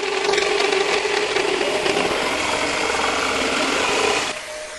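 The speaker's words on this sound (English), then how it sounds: "I went very slowly on my first go of these power tools." A power tool cuts through wood, a steady loud whirring drone with a gritty texture that runs continuously for about four seconds, then drops abruptly as the cut ends and the motor winds down to a quieter hum.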